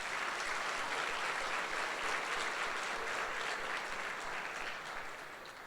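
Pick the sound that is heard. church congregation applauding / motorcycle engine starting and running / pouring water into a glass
church congregation applauding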